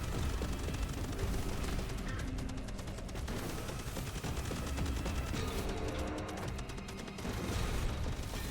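A jellyfish-turned magic missile machine gun firing in the video game Voidling Bound, a dense, continuous barrage of rapid shots and booms that stays loud throughout.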